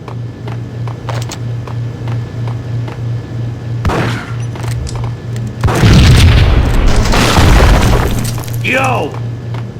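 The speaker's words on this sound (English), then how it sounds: "I thought it was a bomb for sure." Explosion blast in the Max Payne video game, a heavy roaring boom and debris rumble bursting over a pulsing low hum partway through, with game voices talking around it.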